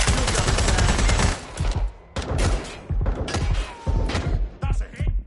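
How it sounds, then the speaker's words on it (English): Dense bursts of rapid gunfire in a PS4 video game crackle loudly in heavy volleys, broken by short pauses and metallic clanks, sounding chaotic and close. "Gunfire!"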